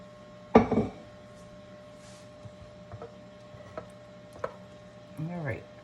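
A spoon clanks against a pot while tuna noodle casserole is stirred, one sharp scrape followed by a few soft, sparse taps and a faint murmur of a voice.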